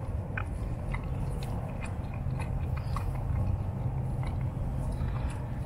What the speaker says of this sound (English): But he is just munching away.